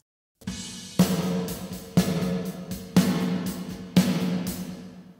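Five evenly spaced snare hits through an Arturia Rev Plate-140 plate reverb, each followed by a bright, washy tail that rings out and overlaps the next strike. No voices.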